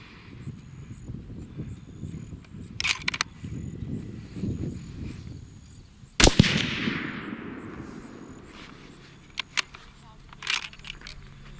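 A Savage 111 rifle chambered in 270 Winchester, loaded with Barnes 130-grain TSX bullets, fires one sharp, loud shot midway, followed by a decaying echo. Quiet rustling comes before it and light clicks and clatter come after.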